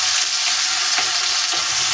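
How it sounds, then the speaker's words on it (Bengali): Onion hits hot oil already holding cinnamon sticks, cloves and peppercorns for a Bengali fish-head muri ghonto, giving a steady, close, loud sizzle with faint stirring clicks and no talk. "2 সেকেন্ড পরে আমি এখানে পেঁয়াজ দিয়ে দিচ্ছি একটা"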